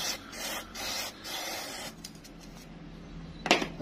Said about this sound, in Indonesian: Tinggal kita semprot aja gini.